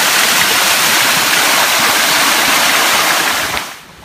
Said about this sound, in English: here's a pretty waterfall